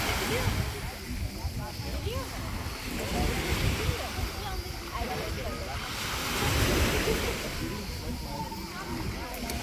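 Sea waves wash steadily onto the beach at Akburun cove, Karaburun, with gusting wind buffeting the microphone and a faint voice now and then.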